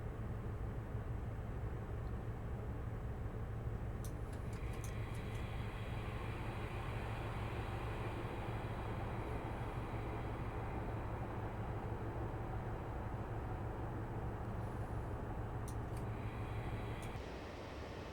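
A train runs in the Train Simulator game on the Plymouth to Penzance line, a steady, moderately quiet rumbling drone with brief higher clicks and squeals now and then.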